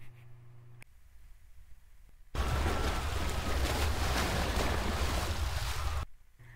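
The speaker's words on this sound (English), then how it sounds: "Now I'm lining up the climax of the splashes to the timing of the passengers hitting the water." A layered water-splash sound effect for Titanic passengers striking the water erupts abruptly as a loud, dense roar of spray, holds for several seconds and then cuts off, preceded by quieter rumbling.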